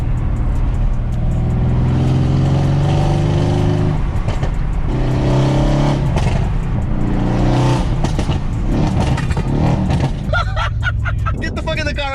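A Mercedes-AMG W205 C63S with its V8 engine revving loud and close, the pitch climbing and falling in repeated surges with a brief dip between them, while people talk over the roar.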